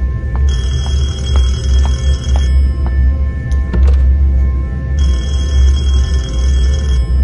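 A telephone rings inside a building in the horror game Detention: two long bursts of shrill electronic ringing separated by a pause, set over a loud low ambient hum with a few soft knocks and a thud in between.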